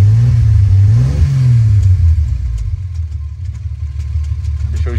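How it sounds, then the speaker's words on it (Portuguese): A 1973 Chevrolet Opala six-cylinder engine runs close up, a loud deep rumble that rises and falls with a blip of revs early on, then settles into a steady idle with light ticking. "Vamos ligar agora pra ouvir o som do motor."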